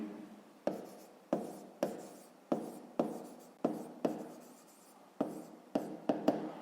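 A pen writes on paper with quick, close scratchy strokes, each starting sharply and then fading. The strokes come in an uneven rhythm and speed up into a burst at the end.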